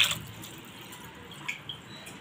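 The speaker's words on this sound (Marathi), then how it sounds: "त्याच्यामध्ये पाणी घालूया" Water poured into a bowl of soaking rice and lentils, a brief splash at the start followed by gentle running and a few faint drips.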